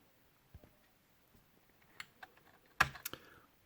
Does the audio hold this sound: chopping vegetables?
no